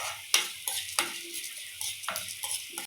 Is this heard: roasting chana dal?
yes